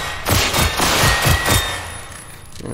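Gunfire in the Generation Zero video game: a quick burst of several loud, booming shots in rapid succession, then a short tail of quieter reverberation.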